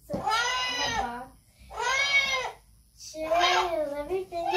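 A newly adopted cat shut in a carrier box lets out three long, drawn-out meows, close and clear, with short quiet gaps between them.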